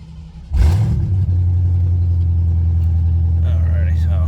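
A car engine with no exhaust fitted, in a Ford with an AOD automatic transmission, fires up with a loud roar and settles into a deep, heavy rumble, raw and unmuffled, with a brief voice near the end.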